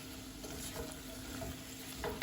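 A spoon stirs caramelized vegetables and a small diced potato in a soup pot, giving a soft, steady scraping with a faint sizzle underneath, quiet and close, with no voices.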